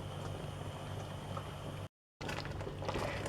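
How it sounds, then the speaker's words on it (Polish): Thick cheesecake mixture bubbling steadily as it boils, a soft continuous gurgle close by, broken by a brief moment of silence. "Masa tutaj zaczęła już nam pomału bulkować i gotujemy ją 5 minut od zawrzenia"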